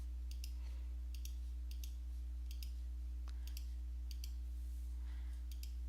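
Mouse clicks from drawing with a pen tool, about ten quick, light clicks at a fairly steady pace, close and faint over a steady electrical hum with no talking.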